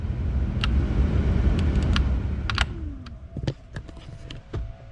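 A Honda Civic del Sol blower motor pushes air through the cabin vents as a steady whoosh for about two seconds, followed by a few light clicks and a brief faint whine.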